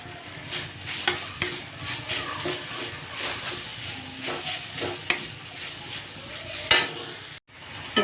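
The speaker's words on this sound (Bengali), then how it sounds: "এবার এটা নাড়িয়ে নাড়িয়ে পুরো শুকিয়ে নেবো নারকেলটাকে" Coconut and jaggery filling stirred in a pan for patishapta, a steady scraping and soft sizzling texture with scattered clicks of the spoon against the pan, continuous and close, with no talk.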